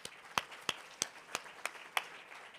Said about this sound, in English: I hope you will join me in thanking them again with another round of applause